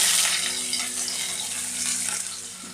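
Onion and green chili pieces frying in hot oil for an egg fry roast, a steady, dense hiss that stays fairly loud and even throughout, with no talking.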